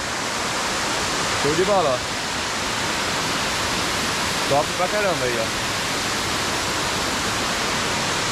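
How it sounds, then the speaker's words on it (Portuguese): Salto do Sessenta waterfall in Botuverá roars as a loud, steady broadband rush close by, while someone talks briefly over it twice. "É a cachoeira Salto do 60 aqui em Botuverá, no bairro 60, né?"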